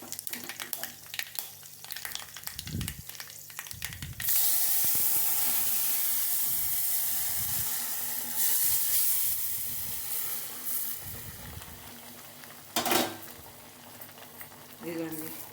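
Tempering (tadka) sizzles and hisses in a pan for a dish of chukkakura (sorrel) and spinach, a steady broadband fry that swells after the first few seconds, with occasional stirring clinks and a brief louder spatter near the end; no talk.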